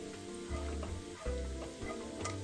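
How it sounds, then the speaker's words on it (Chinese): Sliced shallots frying in oil in a wok over medium-low heat, a soft continuous sizzle with faint stirring and clinks, close but fairly quiet, no speech. "锅里头的油保留，放入红葱片50克，中小火炒至金黄微酥"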